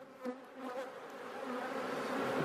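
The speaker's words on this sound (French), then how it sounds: "Elles sont un peu piquantes les abeilles là aujourd'hui." Honeybees hum around an open hive on a cool day, a close, continuous buzzing that swells and dips slightly as individual bees pass near.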